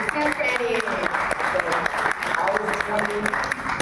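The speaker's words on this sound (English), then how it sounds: "Round of applause." An audience at a talk with will.i.am applauds for Eddie, a steady dense wash of clapping lasting the whole stretch, with a voice speaking over it.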